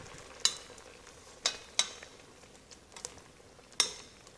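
Shrimp paste being stirred in a pan for stewed squash, with four sharp scrapes of the utensil against the pan standing out over a faint, steady background; no talking.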